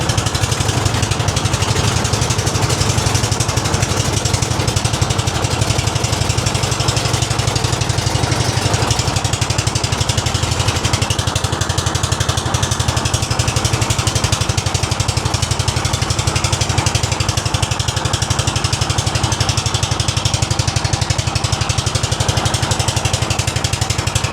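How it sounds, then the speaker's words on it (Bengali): Boat engines crossing the Rupsa river give off a loud, unbroken mechanical drone with a low chugging rumble that holds steady throughout, with no voices. "এভাবে পাল্লা দিয়ে নৌকাগুলো যাচ্ছে"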